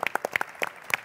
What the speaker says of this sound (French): Une bonne main d'applaudissements pour